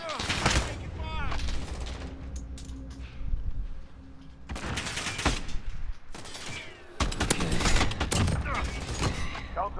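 An AA-12 automatic shotgun fires in Call of Duty Modern Warfare. Loud bursts of rapid blasts come in several clusters with brief gaps, and a voice talks faintly in between.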